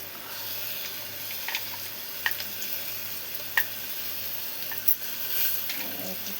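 Chutney mixture with onions and salt stirred by hand in a pan, producing a steady soft scraping with a few sharper clicks of the spoon, fairly faint and alone without talk.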